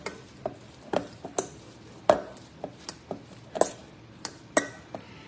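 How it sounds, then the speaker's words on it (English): A shrimp, cream cheese and onion wonton filling is mixed in a bowl, a series of irregular knocks and clinks of a utensil against the bowl over a quiet background, with no talk. "we're gonna blend this with the cream cheese and the other shrimp and onions"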